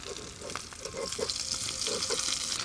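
Odiyal puttu fries in a pan with a continuous close sizzle that swells slightly louder partway through, with faint scrapes of stirring and no clear talking.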